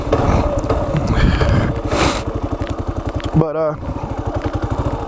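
A Kawasaki KLR 650 motorcycle is ridden on a rural property, its single-cylinder engine thumping in a steady, close pulse. Someone talks over the engine for most of the stretch, and there is a short clatter near the end.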